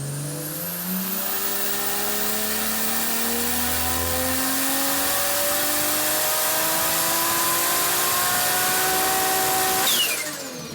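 Turbocharged 2JZ six-cylinder engine with a six-speed manual running on a dyno, revving steadily as the pitch rises and holds for about ten seconds before cutting off abruptly near the end, loud and close with no talk.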